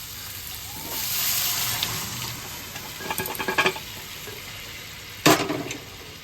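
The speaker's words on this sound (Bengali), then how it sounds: "এবার আমি ঘুগনিটা ঢেলে দেবো।" Chickpea ghugni is poured into a pan with paneer, giving a wet splattering sizzle with soft stirring, a few sharp clatters and a loud splash near the end, heard up close.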